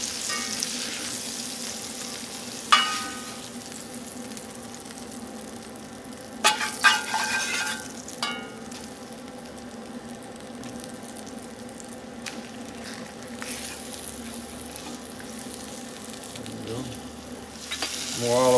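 Country-style steaks browning in oil in a frying pan, a steady close sizzle and crackle running throughout, with a few clinks and stirring bumps and no talking.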